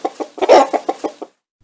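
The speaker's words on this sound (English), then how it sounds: "The children go to see the chickens first" Chickens on a farm give a quick run of sharp, close clucks, about eight in rapid succession, with a louder squawk in the middle before the sound abruptly stops.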